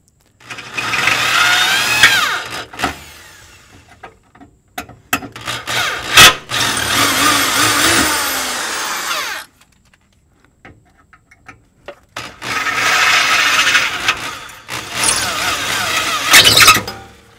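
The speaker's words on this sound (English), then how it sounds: "So we've drilled the head off the rivet." Power drill boring out the head of a rivet on a GM 2.2L Ecotec fuel pump job, in two long loud whirring bursts separated by short pauses and brief quiet gaps, with no talk.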